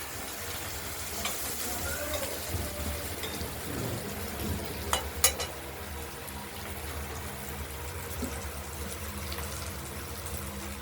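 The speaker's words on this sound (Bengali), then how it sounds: "আলুটা ভাজা হোক সুন্দর করে, লাল লাল করে ভাজা করবো।" A steady, soft sizzle of potatoes frying in a pan, continuous throughout, with a couple of brief clinks partway through.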